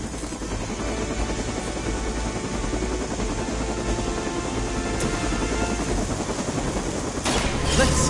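A helicopter in a Marvel card video game drones in a continuous, loud rotor chop, with gunfire-like crackles mixed in and a sharper burst toward the end.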